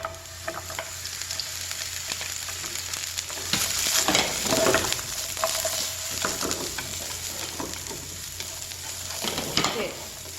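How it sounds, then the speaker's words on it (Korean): Onion stir-fried in plenty of oil in a hot pan during a Korean culinary practice class making royal tteokbokki, a constant sizzle with scraping stirs swelling midway and again near the end, and faint talk in the background. "팬을 좀 달구어서요. 기름을 좀 넉넉하게 두르신 다음에 양파부터 넣고 볶아주세요."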